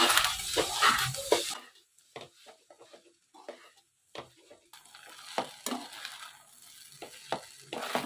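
Food is mixed with chili sauce in a pan, giving a burst of sizzling and stirring. Soft scraping and clinking follow in scattered, close bursts.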